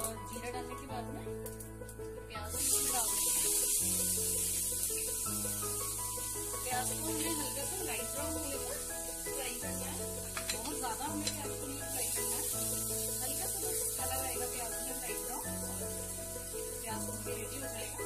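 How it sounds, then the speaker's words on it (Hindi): Cumin seeds drop into hot oil for paneer bhurji, and a loud, steady hissing sizzle starts a few seconds in and continues close up. A tonal, melodic background plays underneath the whole time. "ऑयल गरम हो गया है, सबसे पहले इसमें ये जीरा डालेंगे"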